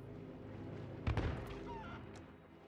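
A sharp gunshot-like bang in the video game Sea of Thieves, with a brief squawk from a nearby chicken and steady background noise.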